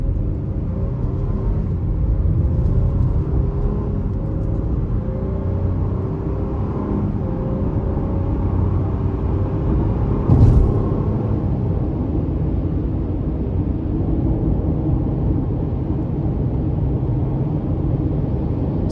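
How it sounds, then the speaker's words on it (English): A 2023 Honda Pilot LX AWD with a 3.5 V6 accelerates under throttle from inside the cabin, a steady low engine drone with rising tone under road and wind rumble. "Let's give it some throttle here."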